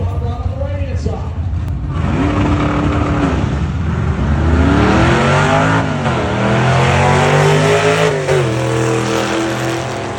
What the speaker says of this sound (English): That's the multicolored hot rod on the left-hand side of the racetrack.